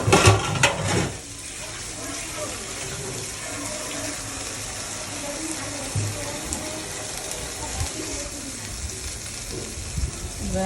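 Water pours into a pan of sizzling rohu fish curry, a burst of splashing at the start giving way to steady frying and bubbling, close and fairly quiet, with faint talk in the background.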